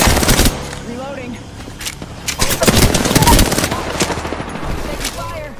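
Rapid automatic gunfire from an Apex Legends firefight, likely an R99 submachine gun, crackles in dense bursts across the clip, loud and close, with game effects mixed in and a voice talking over it.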